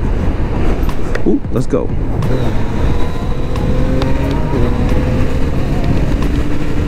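A motorcycle engine downshifts while riding, loud and close, its droning tone stepping between gears and rising and falling in pitch. A rider speaks briefly over it near the start.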